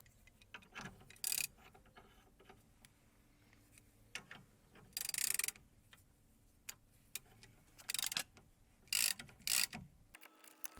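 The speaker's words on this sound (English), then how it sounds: "All we need to do is tighten the central bolt." A ratchet tightens the central bolt of a puller to press the front driveshaft out of the hub on a 2001-2009 Jaguar X-Type, giving scattered bursts of clicking separated by quiet pauses, close and fairly clear.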